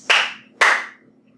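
Two sharp hand claps about half a second apart, crisp and close, ringing briefly in a quiet room during a line dance.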